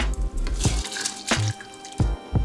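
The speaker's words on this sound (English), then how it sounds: "Next, we just want to give our rice a rinse and then add that to the pan." Rinsed rice is tipped into a pan of water on the stove for Guyanese fried rice, with a few wet plops and soft squelching splashes spaced irregularly, close up and fairly quiet.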